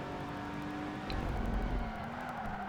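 Ferrari supercars race in Project Gotham Racing 2, a steady engine drone with a faint tire squeal as a car power slides, heard alone and fairly quiet.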